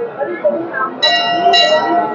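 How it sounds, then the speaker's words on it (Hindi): A large temple bell at a crowded hilltop Mother Goddess shrine strikes twice in close succession, each ring bright and sustained with shimmering overtones, over a murmur of voices and crowd noise. "मंदिर की विशाल घंटी"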